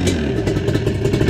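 A motorcycle fitted with a hydraulic clutch idles and revs close by, giving a loud, steady, rough engine rumble with a fast, pulsing rhythm.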